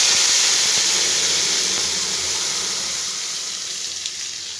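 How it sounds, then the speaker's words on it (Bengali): Ground ridge gourd paste sizzles loudly in a generous amount of hot oil with fried tempering spices, a dense, steady frying hiss close to the pan that eases off slightly over time. "এবার আমি এর মধ্যে বেটে রাখা ঝিঙেটা"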